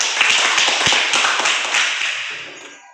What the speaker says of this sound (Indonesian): Bagus, tepuk tangan buat teman-teman.